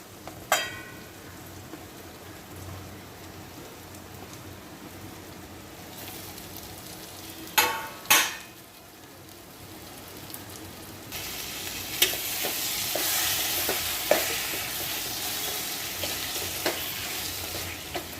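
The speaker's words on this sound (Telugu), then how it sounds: "దీన్ని బాగా కలుపుకొని ఉప్పు కారం అన్నీ చామగడ్డకి పట్టే వరకు కొంచెం మగ్గించుకోవాలి" Boiled, peeled taro root pieces stirred into a pan of cooking tomatoes, a steady soft sizzle with a few sharp spoon clicks and scrapes against the pan, growing hissier toward the end.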